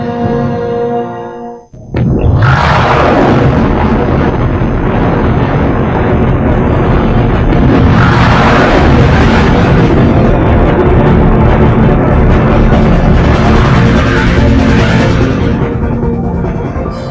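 A huge cinematic explosion representing the Big Bang bursts in after a short quiet lead-in, then rolls on as a loud, sustained, rumbling roar with swelling surges, filling the whole stretch without letting up.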